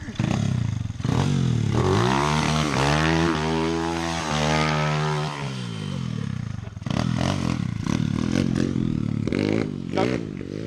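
A kick-started pit bike revs hard close by, its engine pitch climbing and falling over several seconds. Rough idling and more blips of the throttle follow.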